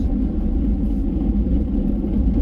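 A snow plow truck's engine rumbles steadily at close range as the blade scrapes snow off pavement, a continuous low drone without distinct events and with no talking.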